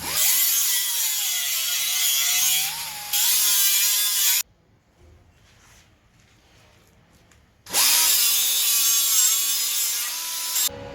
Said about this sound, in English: So I'm just using a regular sanding disc.